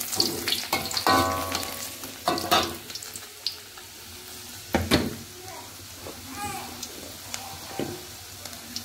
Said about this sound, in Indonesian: Kita tumis bawang putih.